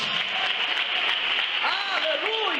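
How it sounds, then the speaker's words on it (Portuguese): Church congregation applauding during a vigil service, a dense continuous clapping wash with a preacher's voice speaking over it. "Desocupa as tuas mãos, aplauda e engrandeça o nome de Jesus."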